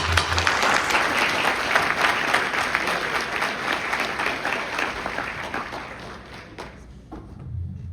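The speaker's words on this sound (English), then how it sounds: "Let's give Jack a round of applause" A crowd applauds steadily for several seconds, dense clapping filling the room, then thinning out toward the end.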